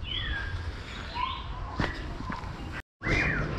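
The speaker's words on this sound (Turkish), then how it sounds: "Yalnız kuşların sesini duyuyor musunuz?" Birds whistle and chirp in open air at a zoo, scattered calls over a steady outdoor background with a brief dropout near the end.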